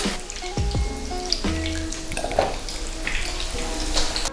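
Kakiage tempura fritters frying in hot oil, a continuous crackling sizzle with a few clinks of utensils against the pan, close and fairly loud.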